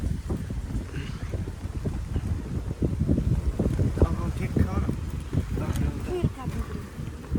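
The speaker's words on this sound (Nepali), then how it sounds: "यो हावा" Wind buffets the microphone while riding pillion on a scooter, a steady low roaring rush that fills the whole stretch, with people talking over it.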